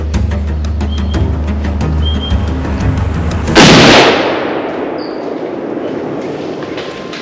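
A single loud rifle shot cracks and rolls away in a long echoing decay while hunting deer, following a low mechanical rumble and faint clicks.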